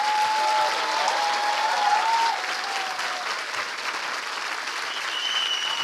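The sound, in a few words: audience applauding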